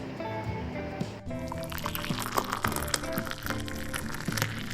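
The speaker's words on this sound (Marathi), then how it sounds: "आता हे सगळं आपण एकत्र करून घेऊयात आणि स्वच्छ पाण्याने धुवून घेऊयात" Idli rava and poha being washed together in clean water, giving a close, continuous sloshing and trickling of water with a few splashy swirls.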